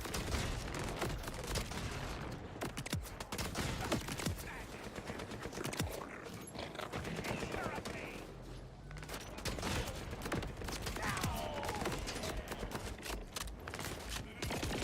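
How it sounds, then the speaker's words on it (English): Gunfire in a Borderlands 4 video game gun battle, a loud, continuous barrage of rapid overlapping shots and blasts that barely lets up throughout. "This is a gun battle."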